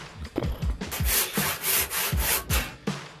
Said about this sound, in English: trying to split a log into cookies with a handsaw